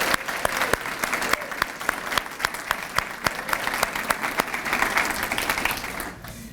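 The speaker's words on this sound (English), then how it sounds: "And another round of applause for all of our elementary school honorees." An audience applauds elementary school honorees at a Shining Apple Awards ceremony, sustained clapping with sharp individual claps standing out near the microphone, then tapering off in the final second.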